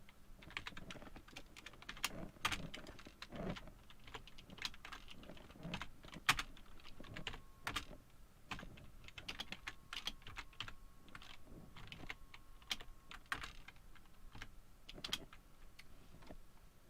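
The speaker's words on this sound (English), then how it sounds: "I'm gonna type some Russian stuff into the chat to practice my Russian" Typing on a computer keyboard, irregular close clicks and taps in quick bursts with short pauses, steady throughout with no talking.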